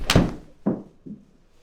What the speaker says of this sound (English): So I'm going to hit a golf shot.